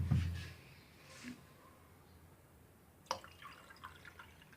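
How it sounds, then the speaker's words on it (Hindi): Water is poured into a glass of strawberry juice: a short splash at the start, then sparse drips and one small second splash, all fairly faint with no talk. "ये हमने पानी ऐड कर दिया।"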